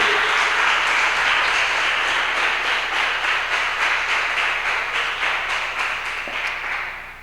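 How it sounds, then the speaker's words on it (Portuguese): A church congregation applauding during a sermon, a dense, loud, sustained wash of many hands clapping that slowly tapers off toward the end. "Pode aplaudir."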